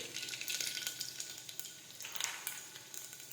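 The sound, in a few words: garlic, mustard seeds and cumin frying in hot oil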